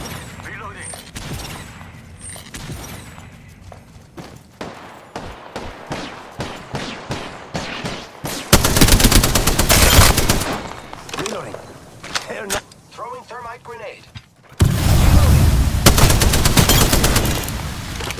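A Spitfire machine gun fires in long automatic bursts in Apex Legends, loud rapid rattling volleys broken by short pauses, with a voice speaking between them.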